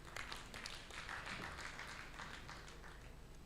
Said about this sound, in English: Let's give her a big hand clap.